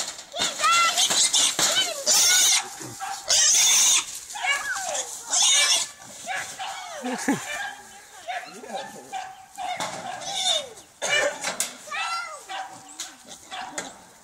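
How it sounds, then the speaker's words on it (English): A pig squeals loudly while a bay dog chases it, repeated shrill bursts of squealing mixed with dog barking and a person shouting encouragement, close and intense across the whole stretch. "Get that pig."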